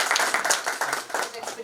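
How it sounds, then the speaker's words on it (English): Audience clapping at a faculty development programme inauguration on artificial intelligence, a short burst of hand claps mixed with murmuring voices in the hall. "please give a big round of applause for this"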